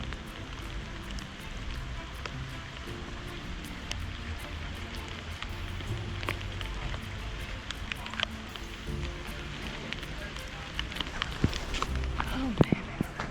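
Rain patters steadily outdoors, with scattered droplet ticks and splashes running continuously under a low background wash throughout, moderately close and growing a bit busier near the end.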